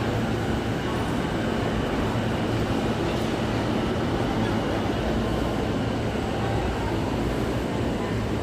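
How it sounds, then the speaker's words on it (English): A Nambu line train pulling into a station platform on a rainy night in Kawasaki, heard as a loud, steady broadband rumble and hiss of wheels and carriages that fills the whole stretch without letting up. "Oh, there's a train arriving at the station."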